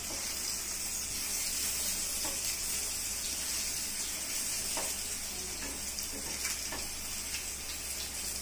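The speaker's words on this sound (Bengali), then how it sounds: "বেগুনের এই দিক একটু ভাজা ভাজা হয়ে যাবে, তারপর নামিয়ে নেব।" Eggplant slices fry in a covered pan over a high flame, giving a steady, even sizzle and hiss that continues without pause.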